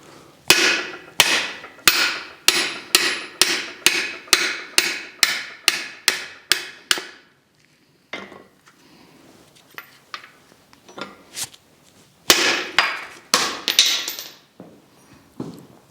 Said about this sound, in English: don't even pound on a socket